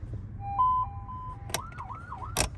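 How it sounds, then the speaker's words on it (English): Sirens fitted to a second-generation Toyota Tacoma pickup give a steady electronic tone, then a rapid warbling yelp, with sharp clicks between the patterns, loud and close with no talk. "It does have, let's see, a bunch of sirens on it."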